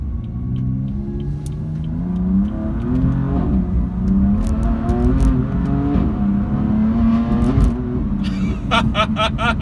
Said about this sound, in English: in person, to me, it sounds pretty decent though for a straight six